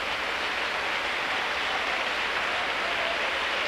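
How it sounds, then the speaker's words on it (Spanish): A church congregation applauds together, a steady, even wash of clapping that holds without pause throughout, moderately loud and somewhat diffuse like a large room. "Le damos aplauso al Señor."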